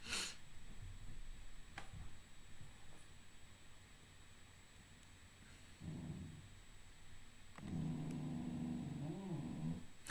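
A cat grumbles in the background of a quiet room, giving low, rough murmurs in short bursts around six seconds in and again near the end, faint and close, with no one speaking.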